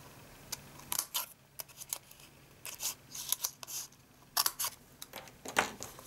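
Scissors snip small paper pieces for a stamped gift box, a series of close crisp cuts in quick irregular bursts with short pauses between them.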